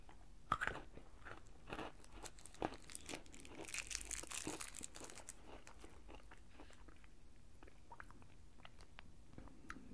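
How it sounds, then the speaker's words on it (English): Bite-size candy bar crunched and chewed with dentures, producing a run of sharp crackling crunches that thin into quieter chewing clicks, close and alone. "these are small enough you can just pop them in your mouth. And they crunch up pretty good."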